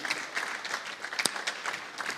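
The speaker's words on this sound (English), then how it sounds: "Please, a round of applause for Dr. Joe Abba," Audience applause at a media lecture series event, a steady patter of many hands clapping with a brief louder clap near the middle, moderately loud and filling the whole moment without speech.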